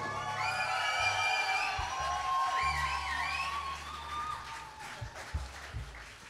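Audience applause and cheering for a band at the end of their set at a live rock concert, steady clapping with whoops and shouts from the crowd throughout.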